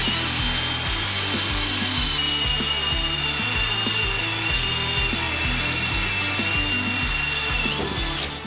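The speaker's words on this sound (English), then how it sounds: "we're gonna finish off with 5 holes in double-stacked hardy board" A power drill bores through double-stacked Hardie board, the whine and grinding loud and steady for several seconds with repeated rhythmic bites into the fiber cement.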